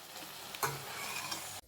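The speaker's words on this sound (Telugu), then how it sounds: "కొంచెం వేగినాయి కదా ఉల్లిపాయలు" Onions frying in a pan for a kurma, giving a faint, steady sizzle close by, with a brief scrape or stir partway through.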